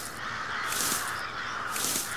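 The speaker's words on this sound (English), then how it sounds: "Now that I think about it, were all of these crows here before?" Crows around a grain field give two bursts of loud, harsh cawing about a second apart, close and clear over a constant background hum.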